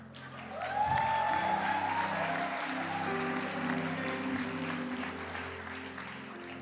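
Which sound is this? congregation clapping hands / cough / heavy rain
congregation clapping hands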